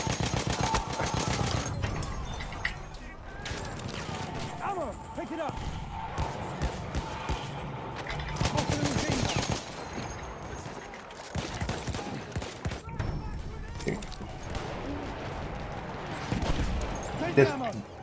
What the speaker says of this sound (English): Why are people shooting me behind?